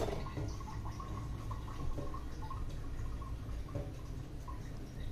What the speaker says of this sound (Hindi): लोटा क्लीन हो जाने के बाद जल भरना है